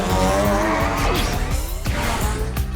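Loud, dense intro to the Crash Nitro Kart kart-racing video game, with engine roars, tire squeals and skids layered over full-force music throughout.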